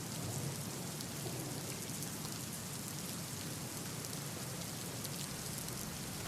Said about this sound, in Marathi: या भागात देखील तुफान पाऊस झालेला आहे